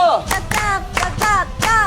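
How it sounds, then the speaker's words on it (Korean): Several bursts of hand clapping, in uneven waves, fairly loud and close, with excited voices mixed in. "와, 박수!"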